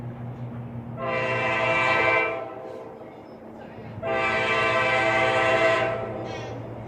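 A mixed freight train passes while sounding a K5LA air horn in two long loud blasts, each holding for about a second or more, over the rumble of rolling railcars.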